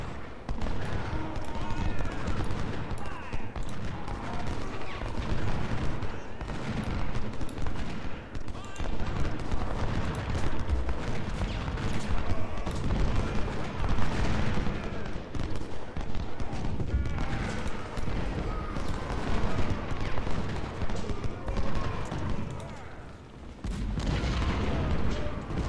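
Dense Civil War musket volleys and cannon booms from the strategy game Ultimate General: Civil War, a continuous rumbling barrage of overlapping shots at middle distance, with someone talking over parts of it.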